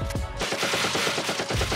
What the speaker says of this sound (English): now the last move, it's like a barrage of bullets, and it kind of like, it has very far range